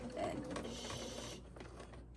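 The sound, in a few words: sewing machine sewing a zippered pouch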